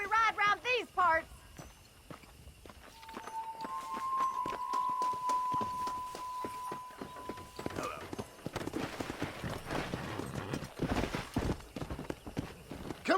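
Horse hooves clip-clop at a riding pace in the video game Red Dead Redemption, a rhythmic stream of close hoofbeats that quickens toward the end, with voices talking over parts of it.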